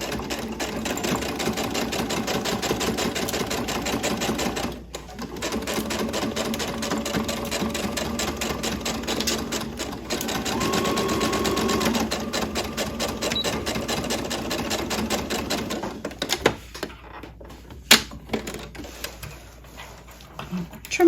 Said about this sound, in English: let's just stitch those two ends closed